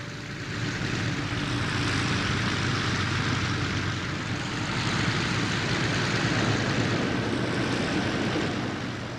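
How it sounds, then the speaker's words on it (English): Piston-engined Douglas A-1 Skyraider attack plane droning loudly with a deep, throbbing propeller roar that swells in and holds steady, broad and continuous, with no talk over it. "the throbbing piston engine roar of the Skyraiders"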